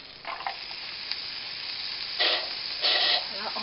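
Onions hitting hot butter in a pan, a close, steady sizzle with a couple of louder hissing surges as they settle and are stirred.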